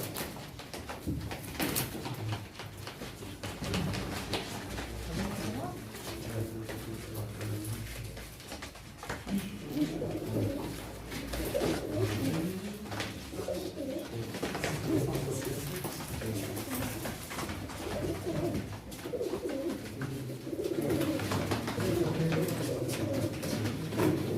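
Pigeons at a pigeon auction coo softly and repeatedly in a busy loft, low throaty calls overlapping through the whole stretch, with faint background movement and clatter.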